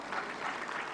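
Audience applause at an Indian national film awards ceremony as a debut non-feature film director receives the Rajat Kamal honour; dense, steady clapping fills the whole second, loud and even without pause.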